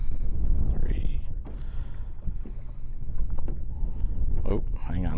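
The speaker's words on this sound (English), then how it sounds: "this wind is getting me" Wind buffets a microphone outdoors, a constant low roar and rumble, while people talk nearby during grass mat fishing-fly tying.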